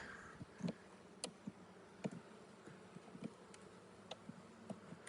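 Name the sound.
honeybees buzzing at a hive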